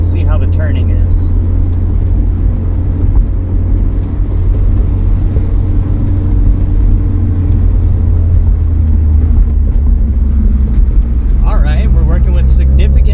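Chevrolet Cobalt SS with newly installed rear shocks driving toward a corner: a steady, loud engine drone and road rumble fill the cabin throughout, with no break in the noise.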